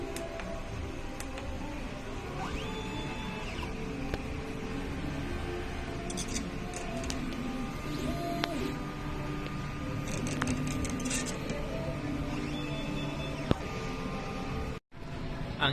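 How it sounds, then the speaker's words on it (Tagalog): An inkjet printer running a nozzle test hums and whirs steadily throughout, with faint ticks, carriage movements and brief mechanical squeaks layered over the drone, ending in a short pause and a click. "Nozzle test."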